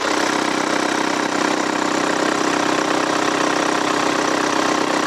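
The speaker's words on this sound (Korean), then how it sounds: "노킹음이나 뭐 파스가 나는 소리 전혀 없이 상당히 깨끗한 디젤 엔진 사운드가 들리고 있었습니다" A diesel family car engine idles steadily and loudly, with a smooth, even rumble and a fine rapid clatter that stays constant throughout.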